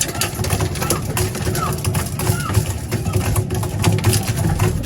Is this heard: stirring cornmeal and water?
no